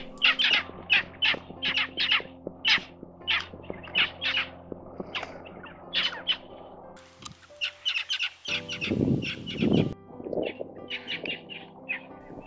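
Bluebonnet parrots call in flight with a rapid series of sharp, harsh chattering notes, loud and close at first, then a brief shift to lower, rougher squawks near the end.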